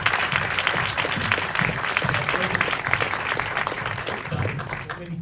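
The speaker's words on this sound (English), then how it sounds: "Let's have a round of applause" Audience at a film Q&A screening applauding, dense sustained clapping from a full room, loud and even throughout, tapering slightly at the very end.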